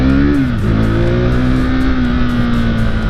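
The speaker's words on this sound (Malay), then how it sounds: "Engine agak kuat bunyi." A KTM RC390 motorcycle engine runs steadily and loudly up close, with a brief dip in revs early on before settling into a constant, throaty idle-like drone.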